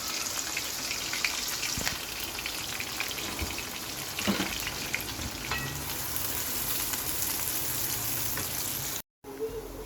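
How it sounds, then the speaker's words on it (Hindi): Onions frying in half a measuring cup of oil for a chicken aloo salan, a steady close crackling sizzle that runs without a break, then cuts out for a moment near the end. "यहाँ मैंने हाफ मेजरमेंट कप ले लिया था ऑयल, उसमें मैं ये प्याज शामिल कर दूँगी"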